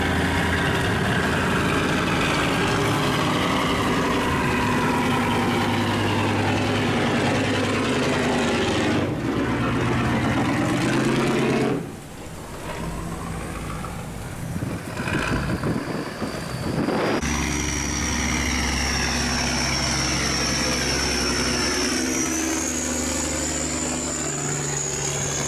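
A rice cargo boat's engine runs on a river, a loud, steady low diesel drone with a shifting pitch partway through, continuing without pause for the whole stretch and no talk.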